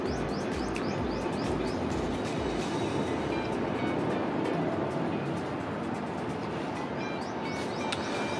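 A locomotive hauling a CNR train departs on an elevated railway, rumbling steadily past at close range, a continuous heavy roar of rolling wagons with faint bird chirps over the top.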